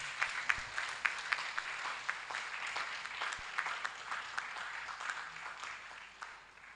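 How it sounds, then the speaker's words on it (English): A crowd at an academic research awards ceremony claps steadily in a mid-distance hall, a modest, sustained round of applause that tapers off toward the end. "The applause don't sound exciting."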